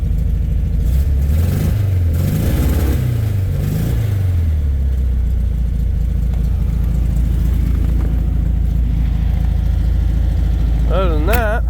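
A 1967 VW Beetle engine running after a cold start in 8°F weather, a steady loud air-cooled idle with a few rising revs early on and brief clatter, heard up close with no talk over it.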